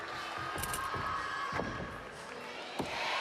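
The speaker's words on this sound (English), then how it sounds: "The home crowd absolutely love that." Home crowd at the women's all-around final of the 2025 European Gymnastics Championships cheering and applauding loudly after a vault, a steady dense roar with a few sharp bursts.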